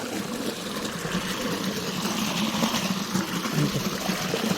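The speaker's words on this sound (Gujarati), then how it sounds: "હવે એમાં નાખી દેવાનું પાણી" Water pours steadily into a vessel after fertilizer has gone in, a continuous rushing trickle that holds at even strength throughout with no talk over it.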